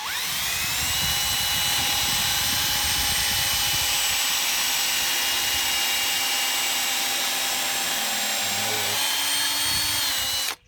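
A power drill with an auger bit bores through a wooden gate, a steady loud high whine held for about nine seconds before the pitch drops and the motor cuts off, with no talking.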